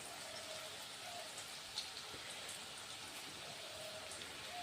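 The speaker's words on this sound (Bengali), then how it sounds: "আমি এইভাবে দিয়ে সবগুলোকে প্রথমে ভেজে নেব" Jackfruit and prawn kofta balls fry in hot oil, giving a steady, even sizzle that runs close and moderately loud for the whole stretch, with no talking.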